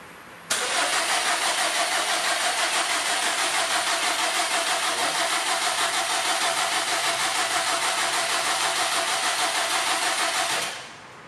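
A Subaru Impreza WRX STi with a newly fitted engine starts up in a workshop, then settles into a steady, loud, close idle that holds for about ten seconds before cutting off.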